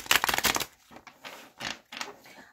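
A deck of tarot cards being shuffled by hand, with several close, crisp papery riffling bursts separated by short pauses, loudest at the start and alone without talk.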